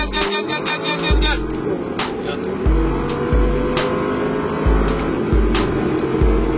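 An Audi R8 RWS engine revs hard and climbs through the gears in repeated surges on a racetrack at Le Castellet, loud and close, with a person speaking over it.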